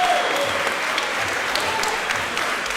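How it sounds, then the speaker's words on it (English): A loud, dense wave of applause and cheering fills an arena as the crowd stands after a combat sports fight at an invitational event in Phoenix, sustained and close without a break. "the crowd is on their feet"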